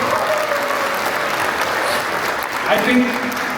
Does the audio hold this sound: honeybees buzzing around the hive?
no